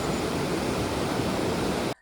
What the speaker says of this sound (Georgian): ისმის მხოლოდ მდინარის ხმა